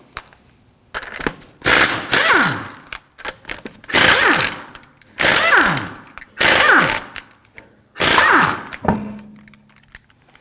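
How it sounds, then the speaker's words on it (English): Impact wrench with a 19mm socket removing wheel lug nuts on a 2013-2015 Subaru XV Crosstrek: five loud hammering bursts in a row, each winding down with a falling whine, separated by short pauses. "To remove the wheel, we're going to use a 19mm socket."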